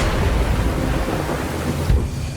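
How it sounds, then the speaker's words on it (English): Thunderstorm with heavy rain in an open-world video game: a dense, steady roar of downpour with low thunder rumbling beneath it and a brief swell near the end, no voices. "Even now, I can feel the storm coming."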